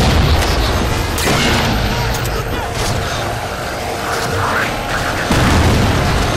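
Gunfire and booming blasts aimed at turrets in the Halo 4 video game, a dense, continuous barrage of shots and explosions, loud and close throughout, with a heavier burst near the end.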